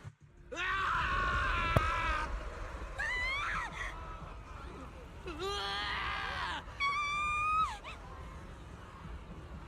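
Video game characters let out a series of anguished screams and groans, several separate bursts of a few seconds each, fairly loud, with pitch sliding and wavering.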